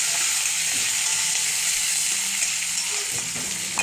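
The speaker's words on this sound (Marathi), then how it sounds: "आता याच्यामध्ये एक पळी तेल घालून घेऊया ते हलवून घ्या" Chopped onion frying in oil is stirred in a pan, giving a steady, close, bright sizzle that holds throughout with faint scraping underneath.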